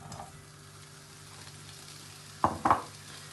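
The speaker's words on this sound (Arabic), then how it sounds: "دابا غادي ناخذ شويه ديال الزبده، واحد المقله ديالنا، وغادي نقلي هاد لي كروفيت ديالي" Shrimp go into melting butter in a frying pan. A low, quiet hiss gives way to two short, sharp bursts of sizzling and spattering near the end.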